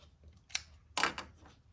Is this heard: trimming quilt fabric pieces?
yes